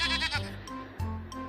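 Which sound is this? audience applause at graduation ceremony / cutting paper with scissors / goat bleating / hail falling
goat bleating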